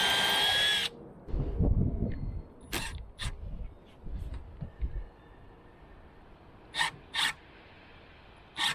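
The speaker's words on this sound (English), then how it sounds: "drilled pilot holes and drove in 2 screws on each side" A power drill bores pilot holes and drives screws into a fence post in bursts of whirring and grinding, then goes quiet, followed by a few short sharp clicks near the end.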